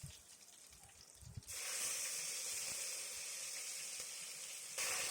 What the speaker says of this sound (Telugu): కొద్దిసేపు వేగనివ్వాలి.